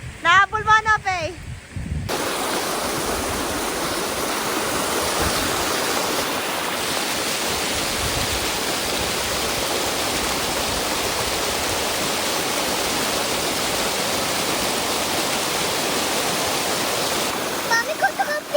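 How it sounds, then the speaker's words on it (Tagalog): A big waterfall at a riverside campsite roars as a loud, steady broadband rush. It follows a brief opening of a voice and fills the rest of the stretch nearly unchanged. "go to the big waterfall. Big water."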